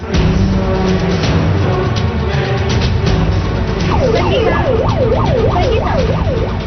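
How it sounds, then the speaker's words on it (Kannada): An ambulance siren wails in repeated rising and falling sweeps, loud and close, over a dense bed of road and traffic noise. The siren enters partway through. "ಆಸ್ಪತ್ರೆಗೆ ಆಂಬ್ಯುಲೆನ್ಸ್ ನಲ್ಲಿ ಹೋದ ಸಂಗೀತ ಭಟ್"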